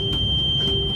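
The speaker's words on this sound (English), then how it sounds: "alarms go off." Overspeed alarm in the cab of a DCTA A-train commuter train, a steady high electronic buzzing tone sounding over the low rumble of the moving train.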